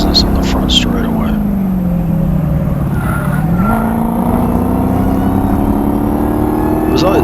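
A Dodge HellCat roars loudly on a race track, engine pitch dipping and then climbing as tires chirp and squeal losing traction, with someone talking over the steady engine noise.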